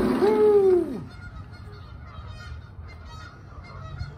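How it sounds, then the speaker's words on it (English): A goose honks loudly at the start by a lake, then the scene settles into quieter outdoor background noise. "you can hear the geese."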